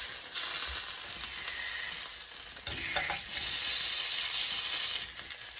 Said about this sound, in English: we want to do is sear the outside to hold in all those nice juices